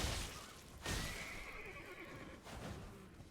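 Horse whinnying in the video game Elden Ring while being ridden, a single loud, high neigh that rises and trails off over a few seconds, with faint hoof noise underneath.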